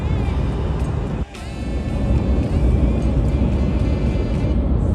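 Renault Clio 5 1.0 SCe petrol engine cruising on a highway at about 90 km/h and 2750 rpm, a loud, steady cabin drone mixed with road and wind noise, with one brief dip partway through.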